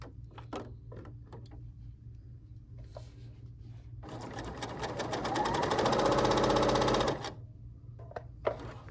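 A Bernina L 890 sewing machine runs a burst of stitching, a fast, steady mechanical whir lasting about three seconds and rising to a loud peak, with quieter clicks and a low hum before and after.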